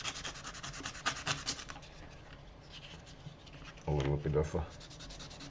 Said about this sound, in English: a sandpaper is what I use